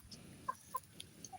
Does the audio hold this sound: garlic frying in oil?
no